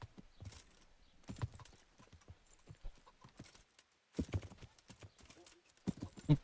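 Horse hooves clip-clopping in the video game Kingdom Come: Deliverance, uneven bursts of clear hoof strikes with short pauses between, fairly close, and someone talking in between.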